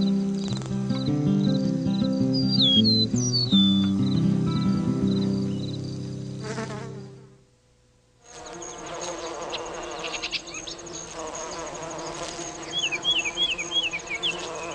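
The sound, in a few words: solitary bees buzzing in a garden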